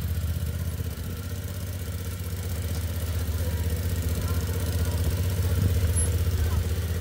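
A Honda Transalp XL750 motorcycle idling close by, a steady low engine rumble that holds even and slowly swells slightly, with no talk over it.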